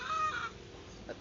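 Backyard chickens, including Texas and Rhode Island hens, cluck in a brief, fairly close burst that fades after the first half-second, with a softer call near the end.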